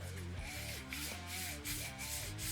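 A soft, continuous rubbing and faint whirring of a Sony APS-C prime lens focus ring being turned back and forth, close up, with a gritty, slightly loud mechanical texture and no voices.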